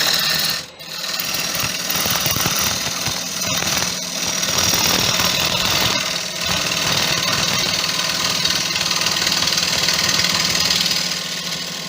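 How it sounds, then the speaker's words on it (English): Gouge taking a rough pull cut on a wood bowl spinning on a lathe, a continuous loud rasping, chattering scrape with steady motor hum running throughout, broken only by a brief dip near the start. "this is just a straightforward pull cut"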